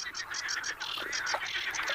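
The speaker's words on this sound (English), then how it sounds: "As evening approaches, the croaking of these amorous amphibians reaches a climax" Marsh frogs in spring-flooded fields by the Caspian croak at evening in a dense chorus of rapid, rattling calls that overlap and repeat quickly, loud and close.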